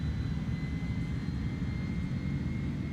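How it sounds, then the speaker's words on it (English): Airbus A310 jet engines hold takeoff thrust in a flight simulator game, a steady loud roar with a broad low rumble and a faint high whine running continuously, no talking. "Right, so takeoff thrust we've got."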